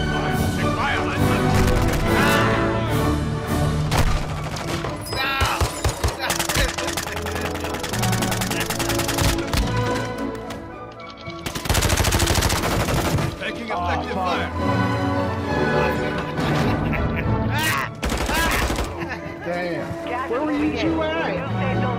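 Call of Duty gameplay with dense, continuous gunfire and explosive booms, heavy and loud throughout, while players talk and shout over the combat.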